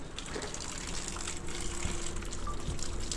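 Weak mains water trickling from a household tap before a booster pump is fitted, a thin continuous gushing splash heard up close and fairly quiet, with no one talking.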